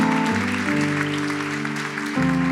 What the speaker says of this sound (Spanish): ¿Cuánto le pueden dar un aplauso bien fuerte al Señor?